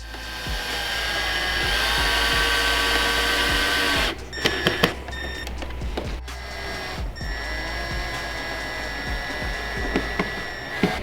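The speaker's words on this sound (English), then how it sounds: "we're gonna self-tap to kind of just get it to where we want it to" A power drill driving self-tapping screws into metal while fitting carbon fiber side skirts on a BMW E92 M3 whirs continuously at high speed, then stops and starts in short bursts with clicks and knocks as screws bite in.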